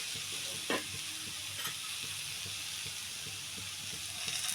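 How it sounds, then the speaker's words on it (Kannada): Capsicum frying in oil in a pan, a steady close sizzle with a few soft scrapes of stirring over it and no voices. "ನೋಡಿ ಈ ಥರ ಎರಡು ನಿಮಿಷ ಇದನ್ನು ಹೀಗೆ ಫ್ರೈ ಮಾಡಬೇಕು"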